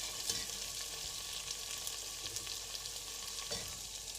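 Fresh curry leaves crackle and sizzle in hot oil, a steady bright hiss with a few sharper pops, close and moderately loud with no voices.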